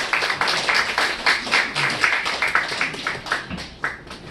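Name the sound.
congregation applause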